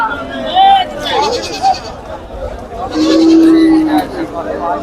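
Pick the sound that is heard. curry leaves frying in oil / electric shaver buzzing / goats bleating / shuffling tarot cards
goats bleating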